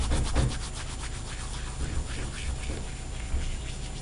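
Chili or seasoning being ground by hand in the kitchen while making pata tostadas, a steady rubbing and scraping with a repeating back-and-forth rhythm, close and moderately loud, with no talk over it.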